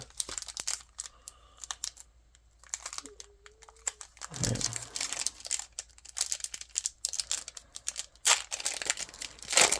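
Sealed Young Jedi collectible card booster packs, about 25 years old, being torn open by hand: close, continuous crinkling and tearing of foil wrappers with some card handling, under someone talking quietly.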